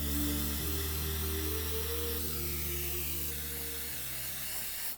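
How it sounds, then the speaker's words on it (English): Aerosol spray of all-over matte varnish hissing steadily onto a painted Elven watchtower terrain model, one continuous close burst lasting about five seconds with a low hum beneath, stopping abruptly. "Then I protect all that paintwork with an all-over matte varnish."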